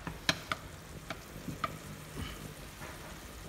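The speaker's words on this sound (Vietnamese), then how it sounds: "Đây là nồi cà chua phi với lại xào lên với lại một chút mỡ và chanh trà." Tomatoes fry in a pot with fat for crab noodle soup, giving a soft steady sizzle punctuated by several sharp ticks and clinks of a utensil against the pot.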